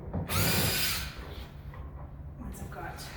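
A power screwdriver backs out screws while an upright piano is dismantled, with a loud whirring burst near the start and then quieter rattling handling sounds.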